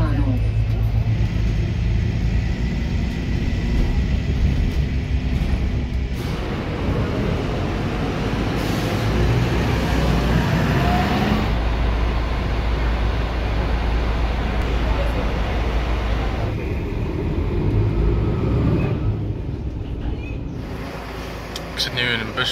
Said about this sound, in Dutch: Ik zit nu in een bus van de AEG, dat is de busmaatschappij in Aken.